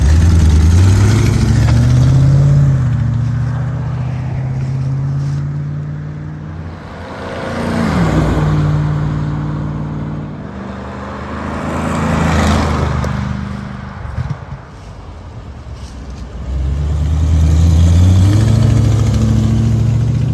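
A 1979 Aston Martin V8 Oscar India coupe drives past several times on a road test, its engine rising loud and near, then fading, with steady engine drone between passes and no talking.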